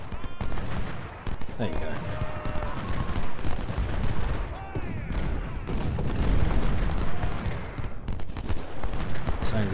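Musket volleys and scattered rifle fire crackle steadily in an Ultimate General: Civil War battle, with dense overlapping shots and booms sustained throughout while someone talks over the din.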